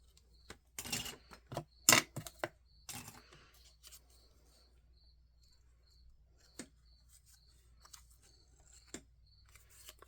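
Scissors snipping ribbon during a papercraft project: a cluster of sharp close clicks and cuts early on, then scattered quieter snips, with a faint steady tone beneath.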